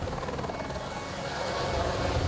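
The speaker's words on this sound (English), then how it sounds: "Philippe Delquier, firefighter in a water bomber helicopter, barely has time to join the pilot before they take off for airdrops on the fire" A water bomber firefighting helicopter fighting a Provence wildfire, its rotor and engine drone continuous and close, growing slightly louder toward the end, with no talking.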